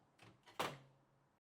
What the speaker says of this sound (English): Just undo them so that we can slide this soap drawer back